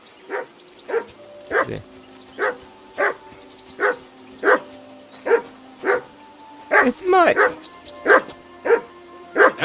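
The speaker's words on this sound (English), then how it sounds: "Henry, whistle at that mutt of yours to stop barking." Repeated dog barks come at a steady rhythm in the video game Kingdom Come Deliverance II, a series of sharp yips near and clear with brief talk over a few of them.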